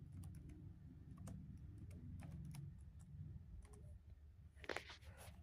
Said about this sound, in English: I think it's typing